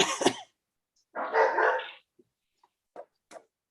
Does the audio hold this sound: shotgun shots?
no